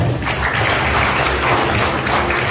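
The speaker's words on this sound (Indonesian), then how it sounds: "tepuk tangan buat Bapak Ibu semua" An audience at a community event claps together in a short, dense burst of applause that holds steady and close throughout.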